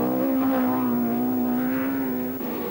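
A Ford Fiesta rally car at the 1984 Granite City Rally races past, its engine a sustained, fairly loud drone with a slight pitch shift as it passes, heard alone without voices.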